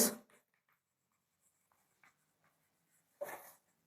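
Chalk or marker strokes on a classroom board during a geometry lesson, a few short scratchy bursts separated by quiet gaps, with a louder stroke near the end, no talking over it.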